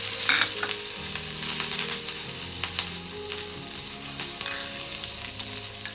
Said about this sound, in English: I just want to give a toss to the onion and ginger garlic just to get rid of the raw smell